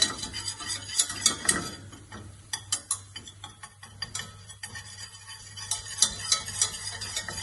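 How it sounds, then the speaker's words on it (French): A whisk beats a blond roux for béchamel in a pan, its metal strokes clicking and scraping in a quick irregular rhythm, close and fairly quiet. "On fouette et on va avoir une mousse qui va apparaître."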